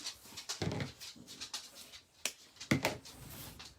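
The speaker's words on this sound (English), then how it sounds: "Sorry, my dog's over here looking for me." A dog whimpers close by in soft, broken whines, mixed with small rustles and handling noises from wreath-making with poof and rolls, and no voice is heard.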